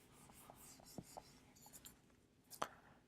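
Erasing on a board comes through as faint, close scratchy rubs and soft taps in irregular bursts, with one sharper knock near the end.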